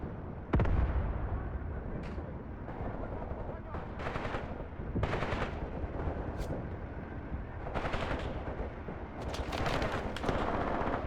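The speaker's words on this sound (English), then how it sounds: "Hear the bullet cracks." Sharp bullet cracks and bursts of gunfire from the tank-warfare game Graviteam Tactics, with troops in a gully firing on half-tracks, come as repeated loud snaps and rattling volleys over a steady battle din, with no talking.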